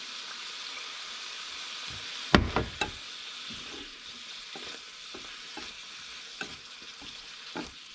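Soy sauce hits beef frying over high heat, bursting into a sudden loud hiss and crackle that eases into a steady sizzle with light stirring knocks and scrapes.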